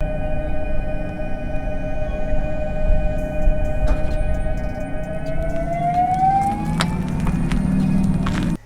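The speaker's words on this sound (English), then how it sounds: "the ID4 has the most annoying sound out of any of these electric vehicles" A 2021 VW ID.4 electric car's pedestrian warning sound: a steady electronic hum with a rising synthetic tone swells slowly over low rumbling background noise.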